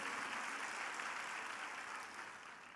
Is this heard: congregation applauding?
yes